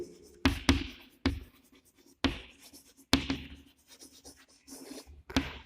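Pen or marker writing out a unit vector by hand on a board: irregular scratchy strokes and taps in short bursts with pauses, close and fairly clear, no talking.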